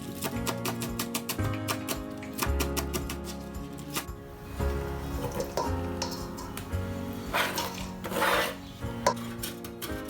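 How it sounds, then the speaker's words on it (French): Carrots are grated by hand on a grater for kimchi, a steady, close rasping scrape repeated in quick regular strokes throughout, with no talk. "Je continue en râpant mes carottes"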